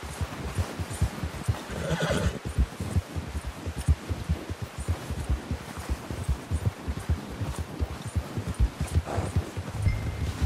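A horse in Red Dead Redemption 2 neighs and whinnies several times over steady clip-clop hoofbeats, close and fairly loud with no talking.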